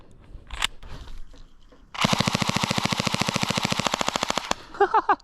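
An airsoft gun fires full auto in a fast, even burst of about forty close, loud shots lasting roughly two and a half seconds, with a few scattered clicks and handling noises before it and some after.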